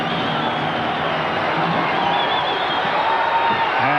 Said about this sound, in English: a capacity, rabid crowd is on hand